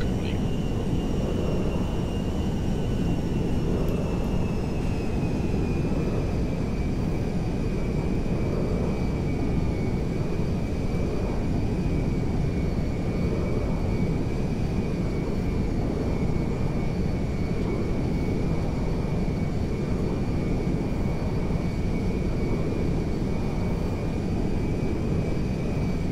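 A steady, loud drone of an airplane landing on a runway in GTA5, holding a constant engine roar with a faint high whine throughout, with no voices.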